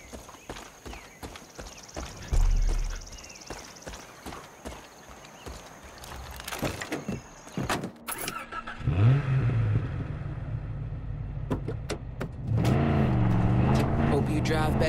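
A car driven in the video game Far Cry 5, its engine revving and accelerating in the second half, rising and falling in pitch, after earlier clopping and clattering, with a voice speaking over it.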